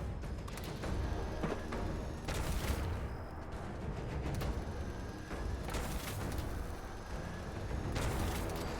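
Gunfire in the game Fallout 76, a dense run of repeated shots in bursts with short gaps, loud and continuous over a busy noisy background, no talk.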